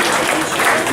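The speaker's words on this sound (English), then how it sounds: "big round of applause for Evo." A dense burst of crowd clapping fills a sports club's 2016 season launch event, loud and continuous for a brief moment.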